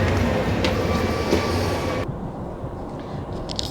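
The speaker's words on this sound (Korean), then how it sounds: "제가 좋아하는 무궁화 열차를 탈 거예요" A Mugunghwa passenger train at Seoul Station rumbles steadily with broadband rail noise, its loudness easing slightly partway through as the sound becomes more muffled, with no talking.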